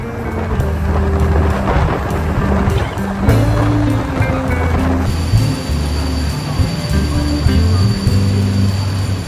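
A train rolls along rails in light rain through wet countryside, a continuous loud rumble and clatter heard from inside the carriage, with low tonal hums shifting underneath.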